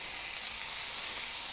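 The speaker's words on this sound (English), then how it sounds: "I like to put bacon on cold griddle to keep it flat" Bacon strips laid on a cold griddle sizzle in a steady, even hiss of frying fat, close and continuous with no talk over it.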